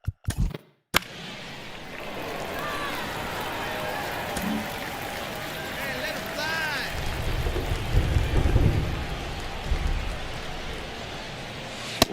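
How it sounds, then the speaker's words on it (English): Steady heavy rain pours over a ballpark in MLB The Show 2024, a dense continuous hiss with a swelling rumble partway through, loud and sustained without pause. "We're coming right up against it with the way this rain is coming down"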